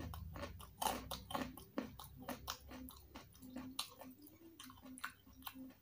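Raw carrot being chewed close to the mouth, with a steady run of crunchy, wet bites and squishy chews, quiet and intimate, with no talking.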